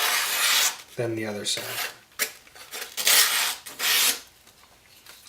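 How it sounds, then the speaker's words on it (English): A knife blade on a sharpening setup slicing through paper in several rough rasping strokes of about a second each, close and fairly loud, with a brief spoken phrase partway through. "I can cut the paper in this direction"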